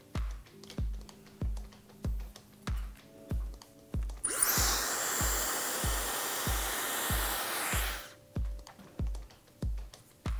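A hair dryer blow-drying a balayage section roars steadily for about four seconds in the middle, between regular, evenly spaced clicking taps before and after.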